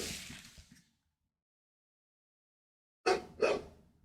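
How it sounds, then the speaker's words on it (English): A dog barks twice in quick succession some distance back in a room, fairly clear, after a trailing bit of voice and a stretch of silence. "My dog is barking back there."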